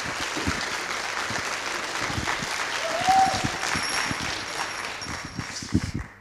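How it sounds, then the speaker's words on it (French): Audience applause at a contest final fills the room as steady, moderately distant clapping, with a few heavier thumps and a brief whistle-like tone partway through. "Vous pouvez l'applaudir, hein, s'il vous plaît."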